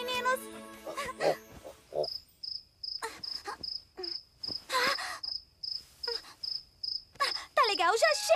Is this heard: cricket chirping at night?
yes